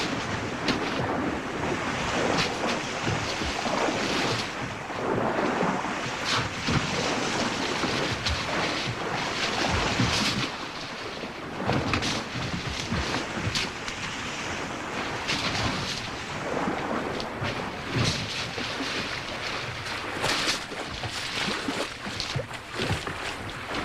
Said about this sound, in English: The great beasts rush into the pan to drink and splash and wallow.